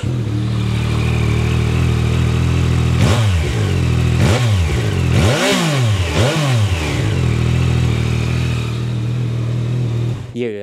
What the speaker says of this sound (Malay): So ini adalah exhaust sebelum aku tukar kepada exhaust yang lagi sedap.